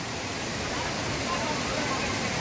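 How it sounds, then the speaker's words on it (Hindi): Loth waterfall in Latehar, Jharkhand, a dense, continuous rushing roar of falling water heard up close, steady and loud throughout. "देखिए यह झरना बहता है"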